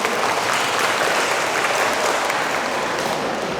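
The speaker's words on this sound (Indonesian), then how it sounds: "Tepuk dulu." Dense, steady applause from a seated audience at an indoor dharma talk, loud and continuous throughout with no voices over it.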